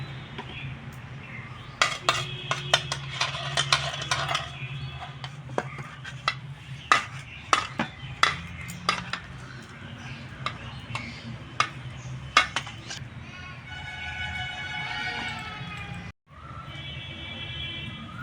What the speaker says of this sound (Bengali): এরপরে একটু জল দিয়ে আমি ব্যাটারটা একটু গুলে নেব